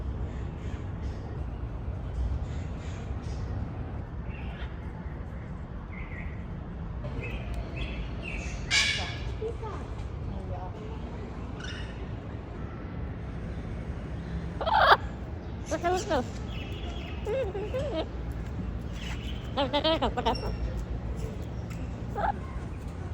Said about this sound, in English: it's got a bunch of parrots